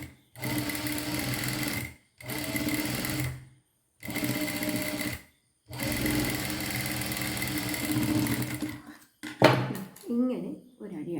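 Sewing machine stitching a blouse neckline, close steady whirring runs in four stretches with short stops, followed by someone speaking at the end.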